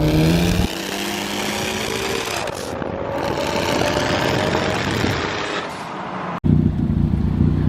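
Loud, raspy exhaust of a tuned Infiniti Q50 running close by, a sustained rough engine roar that drops away before a sharp crack and a quick return of the rumble.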